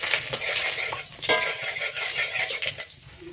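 Panch phoron, dried chillies and bay leaf dropped into hot mustard oil, a brief burst of sharp crackling sizzle with metal utensil clinks and stirring, close and loud.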